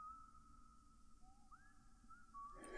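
Whistling in the video game LISA, a thin gliding tone held over a low background, sliding upward midway, then ending in a burst of noise.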